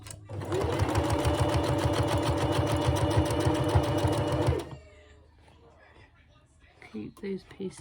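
A sewing machine whirs loudly and steadily at close range for about four seconds while stitching the back legs of a memory teddy bear, then stops abruptly, followed by soft handling noises and a quiet voice.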